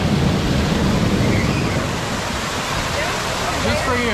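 Waterfalls pour at a hotel lazy river, a steady loud rushing roar of water that fills the whole stretch without pause.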